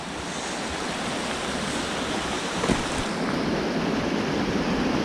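A small brook runs into a large pool on a New Jersey trout stream, giving a steady, close, broadband rush of flowing water that holds even and unbroken throughout.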